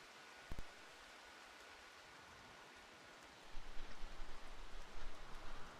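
Steady rain falls in the video game Rimworld as a soft, even wash of noise, swelling louder and more textured in the second half, with no voices.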